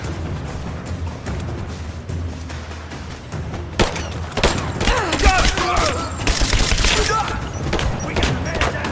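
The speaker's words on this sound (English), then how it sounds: "I'm taking fire! Keep her down! Covering fire!" Dense gunfire in the Rise of the Tomb Raider video game: a sparse crackle of shots at first, then from about four seconds a loud, continuous barrage of cracks and bursts under shouted in-game voices.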